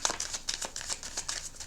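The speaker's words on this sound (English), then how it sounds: "let's go ahead and shuffle these cards." Quick, crisp papery riffling in repeated bursts, like a deck of cards being shuffled up close, with no voices.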